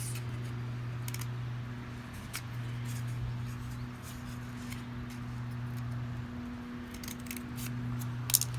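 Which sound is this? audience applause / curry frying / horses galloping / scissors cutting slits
scissors cutting slits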